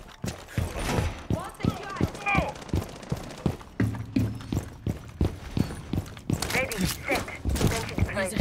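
Gunfire in Rainbow Six Siege, a rapid run of sharp repeated shots in bursts, mixed with game effects and someone talking over the action.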